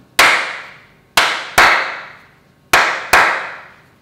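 Sharp, loud hand claps, five in an uneven rhythm with a longer gap in the middle, each crack ringing briefly in a reverberant room, laid out as a pattern for a young child to clap back.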